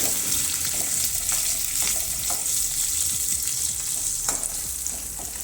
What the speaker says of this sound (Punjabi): ਪਿਆਜ਼ਾਂ ਨੂੰ ਬਰਾਉਨ ਜੇ ਕਰ ਲਵਾਂਗੇ ਦੋ ਹਰੀਆਂ ਮਿਰਚਾਂ ਕੱਟੀਆਂ ਸੀ ਹਰੀਆਂ ਮਿਰਚਾਂ ਪਾ ਦਵਾਂਗੇ ਮਿਕਸ ਕਰ ਦਵਾਂਗੇ